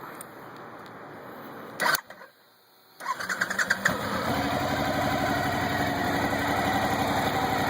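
After a click, the V-twin engine of a 2012 Suzuki V-Strom 1000 motorcycle with stock exhaust cranks and catches, then settles into a steady rumbling idle, close and moderately loud.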